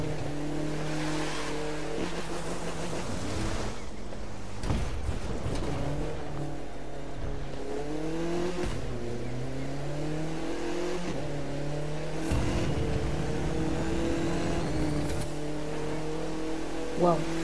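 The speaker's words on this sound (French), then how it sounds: "Ouh, t'es stylé ce drift." A car engine in The Crew 2 revs and drones through a long drift, its pitch rising and falling across several gear changes, with a player talking over it at times.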